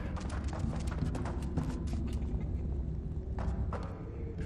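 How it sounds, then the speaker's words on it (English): Footsteps and movement of characters in the video game Never Alone, a soft run of thuds and shuffles over a steady low rumble. The steps stay faint and fairly even throughout, with a few brighter scuffs standing out. "only the sound of the characters' movements can be heard"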